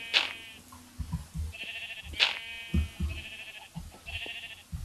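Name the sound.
sheep bleating in a video game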